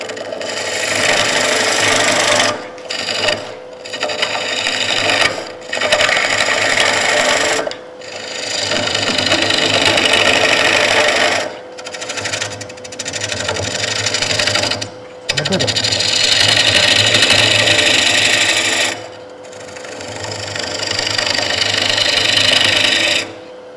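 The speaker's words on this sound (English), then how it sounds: "So I'll do that a lot when I'm roughing bowls, whether it's a live edge or not." A live edge wood bowl is rough turned on a lathe with a bowl gouge, producing loud, sustained rasping cuts that break off in short pauses and then resume.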